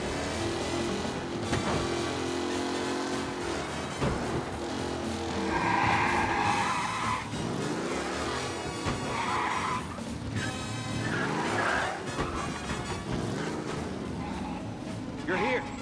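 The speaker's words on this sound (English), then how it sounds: "Be alert for a race car out on the roads tonight." Race car skidding in the video game Mafia: Definitive Edition, with loud tire squeals and screeches rising over a busy engine roar throughout, mixed with other game sounds and no clear talk.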